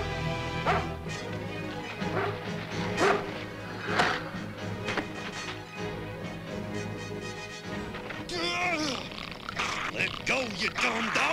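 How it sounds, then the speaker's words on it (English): A dog barks and growls in a 1987 animated film scene, with repeated loud barks and snarls mixed with shouting and crashing action sounds. "Let go, you dumb dog!"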